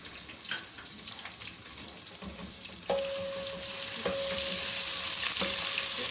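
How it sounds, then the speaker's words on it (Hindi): Garlic ginger paste frying in oil as the base for chicken korma, a steady close hiss and sizzle that grows louder partway through, with faint stirring scrapes and no talk. "अब मैंने ये इसमें लहसुन अदरक की पेस्ट डाल दी हूँ, ताकि इसका कच्चापन जो है ना वो ख़त्म हो जाए"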